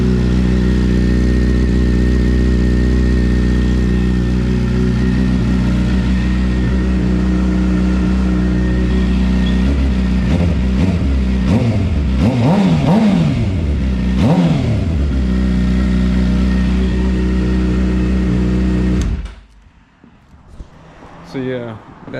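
A Suzuki GSX-R 750 motorcycle engine idles with a loud, steady low throb, then is revved in several sharp rising and falling bursts before cutting off near the end.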